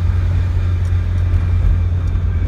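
A 1997 Tofaş Doğan SLX is heard from inside the cabin while driving, with a steady low engine drone and road rumble throughout and no talk.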